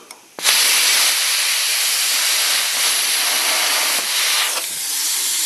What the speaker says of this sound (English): just simply take your plasma cutter and put your plasma cutter in, and all you're going to do is just going to cut